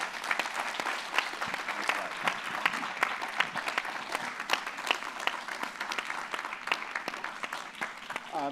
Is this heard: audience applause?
yes